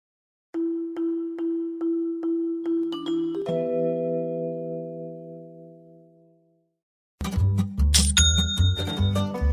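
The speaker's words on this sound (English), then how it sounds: "You know that's the sound of another sale on your online Shopify store." Shopify online store sale notification chime: a run of quick, bright bell-like dings followed by a longer ringing flourish that fades out, clear and close, then music starts after a short pause.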